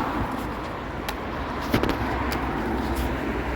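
Background road traffic with cars and buses flying past, a steady nearby wash of tyre and engine noise with a few brief swells and knocks.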